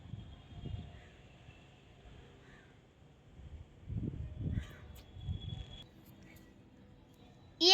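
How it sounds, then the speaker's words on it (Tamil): Several crows caw as a flock flies together, giving a few scattered, faint calls spread over several seconds against a quiet background. "அங்க பாருங்க, எல்லா காக்காவும் சேர்ந்து பறக்குது"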